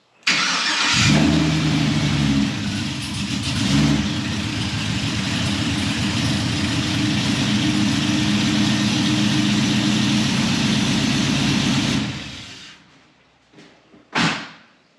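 A Trailblazer SS engine fitted with a carbon air intake fires up and runs steadily at a loud, close idle for about twelve seconds with a deep, rumbling drone. It then shuts off, followed by a brief clunk.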